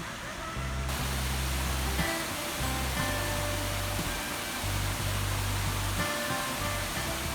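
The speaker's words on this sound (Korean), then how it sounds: "시원하게 물줄기를 내뿜고 있는 분수의 모습입니다." A fountain at Taehwagang National Garden in Ulsan sprays streams of water, giving a steady, loud rushing hiss that runs throughout without a break.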